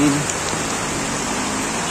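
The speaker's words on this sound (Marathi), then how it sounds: "एवढा खतरनाक पाऊस पडतोय" Heavy rain falls in Virar, a steady broadband hiss of downpour continuing evenly throughout, with a faint voice briefly audible underneath at the start.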